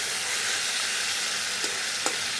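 Tomatoes fry in a hot pan with ginger, green chili and cashews, giving a steady, bright sizzle with a couple of brief stirring clicks, no voices.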